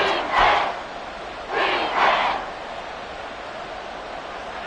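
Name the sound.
crowd cheering at an American football game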